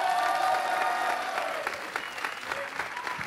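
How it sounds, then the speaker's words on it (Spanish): Comedy show audience giving a standing ovation, dense and loud applause with a little crowd noise, continuous throughout. "El público aplaudió de pie."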